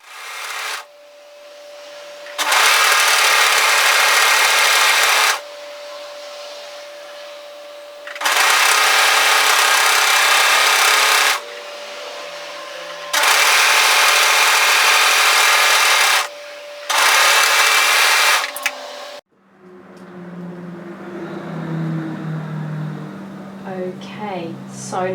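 A sewing machine edge stitching a seam on a bomber-style varsity jacket, running in four steady whirring bursts separated by pauses, then someone speaks.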